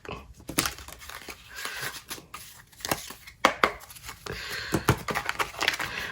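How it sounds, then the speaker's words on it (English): A deck of cards is shuffled by hand close up, with a quick run of sharp crisp riffles and bridging snaps in uneven bursts over quiet gaps. "While I'm shuffling"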